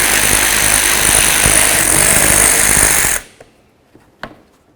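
A power driver whirs loudly and steadily for about three seconds while backing a screw out of a 2006-12 Toyota RAV4 rear bumper, then stops abruptly, followed by a few faint clicks and a sharp tap.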